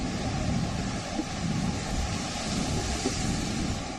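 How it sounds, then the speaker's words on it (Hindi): High sea waves driven by Storm Elsa crash and roar along the Barbados shore, a continuous low wash of surf mixed with heavy wind buffeting the microphone, with no voices. "समुद्र में उठती ऊंची ऊंची लहरें"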